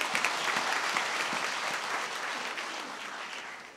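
Audience applause at a felicitation ceremony held alongside a Holy Mass for a newly elected bishop, a thick sustained patter of many hands clapping that tapers off gradually toward the end.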